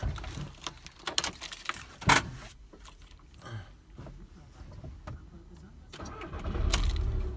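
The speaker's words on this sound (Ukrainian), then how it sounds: "Пробуємо завести." VW T5 van engine being started: a few sharp clattering bursts and a brief cranking, then a quieter interval before the engine rises into a low rumble near the end, with faint voices in the background.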